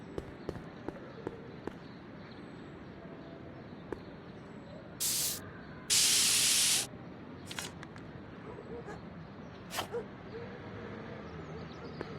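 Spray can hissing in the video game Back to the Future: The Game, a short burst followed by a longer, louder spray of about a second, set against quiet ambient game sounds with scattered taps.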